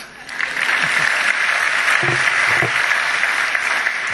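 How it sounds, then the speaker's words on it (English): Sustained applause from an audience at the 2010 Dan David Prize award ceremony, a steady dense wash of clapping running throughout, with a few faint low voice fragments underneath. "if you wish to applaud, why not?"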